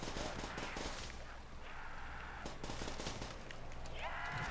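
Gunfire rattles in a custom zombies map called Seelow, bursts of dense rapid shots aimed at zombies, continuous and loud with overlapping game noise throughout.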